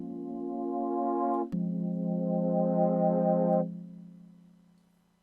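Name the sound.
synth pad patch on Elektron Digitone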